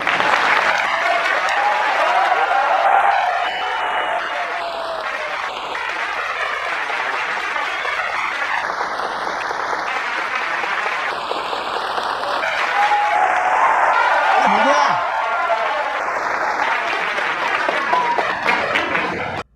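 An audience applauds at a talk, a dense, loud, steady wash of clapping that carries on for about twenty seconds with little change.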